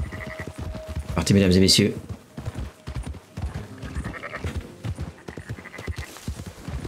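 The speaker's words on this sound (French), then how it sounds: "Ce sont nos moutons, nous sommes des bergers." Sheep bleat in the video game Red Dead Redemption 2 amid hoof clatter and a busy game scene, with a louder burst early on, while someone talks over it in French.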